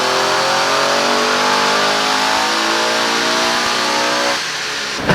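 Stage 3 Audi RS7 running on E85 fuel, revving hard on a dyno, a loud sustained engine roar rising steadily in pitch, then dropping off abruptly near the end.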